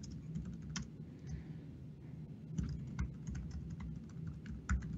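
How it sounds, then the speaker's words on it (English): Computer keyboard typing during a live coding session setting up moderator bots with Azure Cognitive Services: a steady run of close, quick keystroke clicks with irregular rhythm and occasional louder taps, with no talking. "really put my typing skills to the test"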